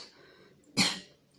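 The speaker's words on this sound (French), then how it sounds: "on a toujours tendance à tousser sous les aisselles comme ça" A single sharp cough into the armpit, brief and fairly close, after a quiet moment with faint background sound.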